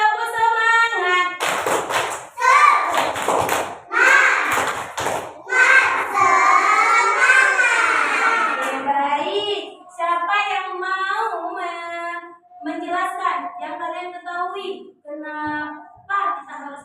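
A class of children performs a rhythmic spirit clap together, sharp group claps in patterned bursts, mixed with loud chanting voices of the kids that carry through most of the passage.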